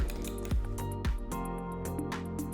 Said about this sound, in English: Using a fork or a whisk, beat the eggs well along with the onions and green chilli.